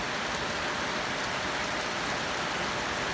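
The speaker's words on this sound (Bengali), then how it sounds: "নির্ঝুম বৃষ্টি হচ্ছে," Heavy, steady rain pours down without wind over rice fields in Dinajpur, forming a continuous, close, dense hiss that holds at one level throughout, with no voices.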